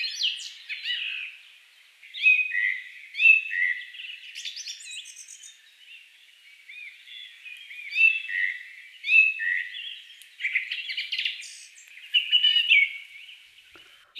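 A bird nesting in a plant in the inner courtyard of Thamarassery Mini Civil Station chirps in repeated bright bursts of high tweets separated by short pauses, close and clear with no talk.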